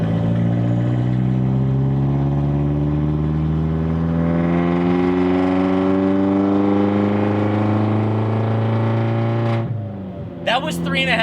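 A boosted Mini's engine revs up to around 3,500 RPM and holds loud and steady with a rising, droning tone before dropping off abruptly, in a car stripped of seats and sound deadening, with a brief voice after.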